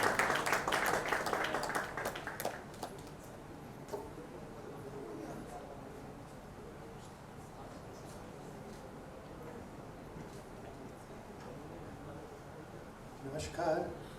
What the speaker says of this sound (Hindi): जोरदार तालियों से मेरे बड़े भाई का सत्कार करें।